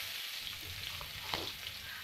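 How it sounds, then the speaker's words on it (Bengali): Chopped onions with salt fry in hot oil in a kadai, over a tempering of bay leaf, dried red chilli and black cumin. A steady, close sizzling hiss runs throughout, with a few soft stirring knocks. "লবণ দিয়ে পেঁয়াজগুলো লাল লাল করে ভালোভাবে ভেজে নেব।"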